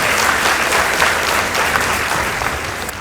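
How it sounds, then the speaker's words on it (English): A school audience at an inter-school competition applauds, a loud continuous round of clapping that holds level and tapers slightly at the end. "Let's give them a round of applause."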